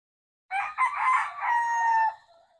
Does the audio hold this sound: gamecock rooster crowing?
yes